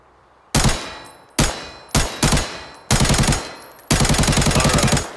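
Shooting targets in the mobile game Arena Breakout: loud, close bursts of automatic gunfire, first four separate volleys with short pauses, then a longer sustained rapid burst.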